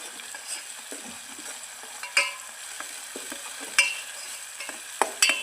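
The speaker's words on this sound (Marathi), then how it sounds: "आता मी हा जो वाटलेला मसाला आहे तो मी असा तेलात फ्राय करून घेते आहे" Ground masala paste sizzles in hot oil for Sangli-style masoor masala while a spoon stirs it, a constant crackling fry punctuated by several sharp scrapes and clinks against the pan.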